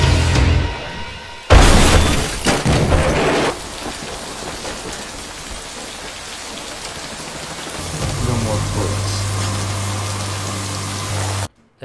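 Heavy rain pours steadily in a scene from the 2014 action film John Wick, a dense loud hiss with a sharp crash near the start and a low rumbling hum building toward the end.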